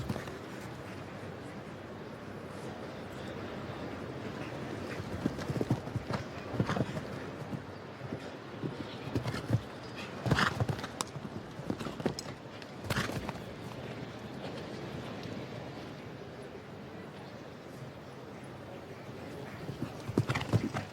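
Horse hooves strike the ground in an outdoor show jumping arena at a Nations Cup event in St. Gallen, a steady clip-clop with occasional whinnies over a constant crowd murmur, louder bursts near the middle and end.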